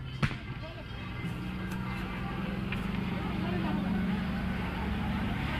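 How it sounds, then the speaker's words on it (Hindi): A tractor engine drones steadily as it is driven round in circles during a farmers' tractor rally protest at ITO, heard from a distance beneath continuous excited talk and crowd noise. "ये ट्रैक्टर को बार बार गोल गोल घुमाया जा रहा है"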